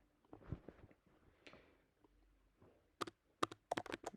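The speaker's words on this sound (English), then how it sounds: "Typing" Keys on a computer keyboard are struck in a quick burst of sharp clicks near the end, after a quieter stretch of faint taps and low speech.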